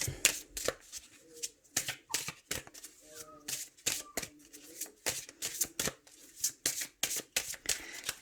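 Oracle cards shuffled by hand at close range, a steady run of crisp, rhythmic flicks and riffles repeating throughout, with faint incidental handling noises between.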